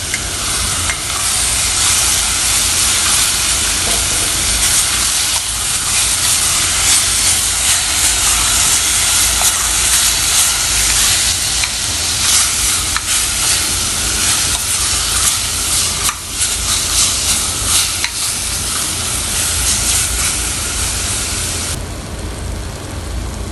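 Kimchi sizzles and fries in a pot for kimchi stew, a loud continuous hissing crackle with stirring scrapes throughout and no speech.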